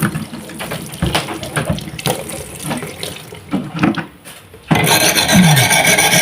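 Coconut being grated on a kudkuran grater for binignit, a rapid run of rough rasping scrapes that grows louder and denser near the end, close up with no talking.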